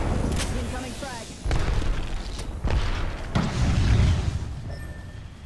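A frag grenade going off in a video game shooter, heard as several deep booming blasts in a row, loud and close, with game effects and a voice over them.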